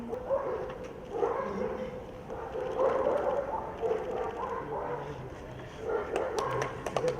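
Police service dogs bark during a canine-unit training exercise outdoors, with repeated mid-distance barks and yips mixed with crowd noise and people talking.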